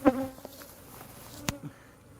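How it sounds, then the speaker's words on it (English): Bees buzz around alligator weed flowers, with faint droning passes close by and a few brief louder buzzes and clicks against a quiet outdoor background. "the bees are all over it right now"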